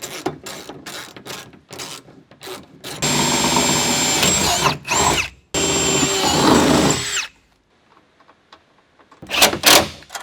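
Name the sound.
power drill tightening battery mount bolts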